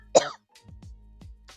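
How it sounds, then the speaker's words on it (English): Several rough coughs in a quiet indoor setting: one sharp, loud burst followed by a few softer, hoarse coughs spaced about a third of a second apart, with no talking. "Coughing."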